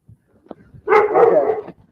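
Rescue puppies give a close, loud, drawn-out whimpering yelp of about a second. Faint small yips and snuffles come just before it, and no one talks over it.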